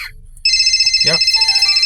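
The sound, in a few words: phone ringing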